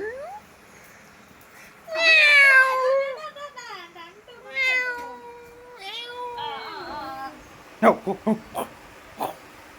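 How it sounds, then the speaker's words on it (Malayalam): Several loud, wavering cat meows come in succession close up, then a few short sharp knocks or clicks follow. "മക്രൂവിന്റെ പൂച്ച അവിടെ കിടന്ന് കളിക്കുന്നു"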